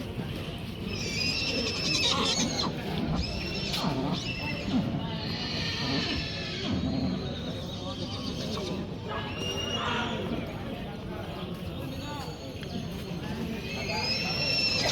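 Horses neigh and whinny repeatedly at the Tulsipur horse market, with hooves clip-clopping and a crowd murmuring and talking throughout.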